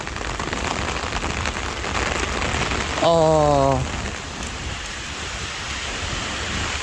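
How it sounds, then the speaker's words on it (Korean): Heavy rain pouring down outdoors on an early-morning walk, a dense steady hiss throughout, briefly overlaid midway by a loud electronic tonal beeping, like a crossing signal, with no talk. "지금 빗발이 세졌습니다."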